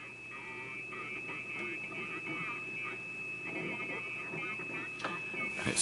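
Vintage Invicta Model 70 valve radio pulling in a weak station, with a faint distorted voice buried under steady hiss, hum and a high whistle tone.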